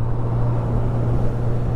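A 2021 Honda CB1000R Black Edition being ridden along gives a loud, steady low engine drone mixed with rumbling wind noise, continuous with no talk.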